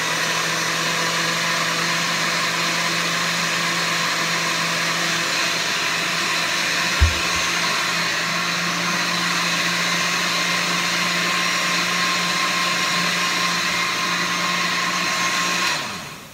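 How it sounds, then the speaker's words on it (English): A kitchen blender whirs steadily at high speed mixing caramel flan ingredients, a loud continuous motor drone with a brief knock near seven seconds before winding down at the end. "And now I'm just gonna blend everything"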